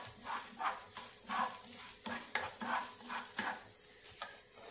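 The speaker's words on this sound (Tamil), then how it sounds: "அதுக்கு 2 ஸ்பூன் ஆயில் வந்து ஹீட் பண்ணி அதில் கொஞ்சமாக கடுகு பொடிஞ்ச அப்புறமா கொஞ்சம் உளுந்தம் பருப்பு" Mustard seeds, urad dal and chana dal in hot oil, stirred in a pan: rhythmic scraping strokes about every half second over a soft underlying sizzle, close and moderately loud.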